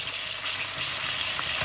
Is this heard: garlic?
yes